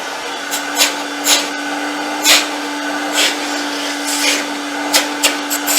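A Mytee Lite II 8070 carpet extractor vacuum runs steadily after repair, a loud continuous motor whine with a constant tone, punctuated by a few brief bumps and rattles.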